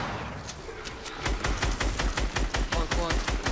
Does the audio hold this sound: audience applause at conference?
no